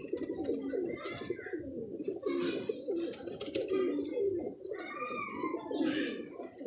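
A pigeon coos softly in repeated, rolling phrases, fairly faint and continuous throughout.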